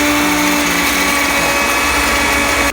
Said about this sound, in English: So we'll quickly grind the coriander, mint,